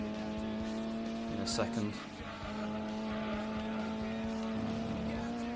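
Alfa Romeo touring cars from Super Touring Car Trophy race down a straight with a steady, droning engine tone and a brief squeal near the middle, while someone talks over the top.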